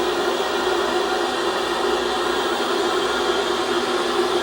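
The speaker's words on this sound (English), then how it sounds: "It's pure white noise with no radio emissions." Steady, loud hiss of pure white noise from an empty VHF radio frequency with no transmissions, continuous and unchanging throughout.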